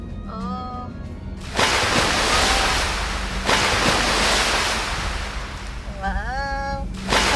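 Cold river water in Gloucester, New South Wales rushes steadily in a broad, continuous noise that fills most of the clip, with brief cat-like mewing voices near the start and end.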